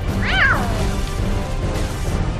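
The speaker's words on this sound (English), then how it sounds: "Meow. Kitty cat." A cat meows once, loud and close, with a rising then falling cry, over steady low background rumble from Halo: Reach game audio.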